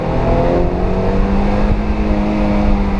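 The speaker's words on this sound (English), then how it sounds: "Downshift, take this in gear 2, ease it in, pick it up" Mazda MX-5 NC engine droning steadily and close on a damp mountain road as the driver shifts down into second gear, with a constant engine tone and road noise throughout.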